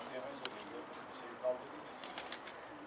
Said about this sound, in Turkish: Evet kuş geliyor.